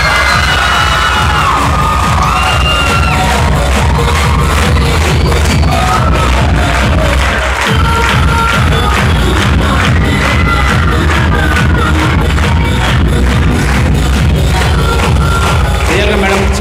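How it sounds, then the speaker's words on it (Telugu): Students at a motivation class clap loudly, a dense, rhythmic burst of many hands with scattered shouts and cheers running throughout. "గట్టిగా క్లాప్స్ పడాలి."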